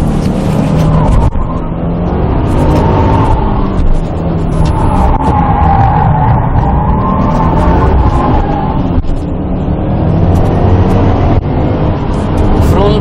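Race car tires squeal and grind with grip on a track, a rising and falling whine layered over a loud engine roar, with a few brief pauses across the run.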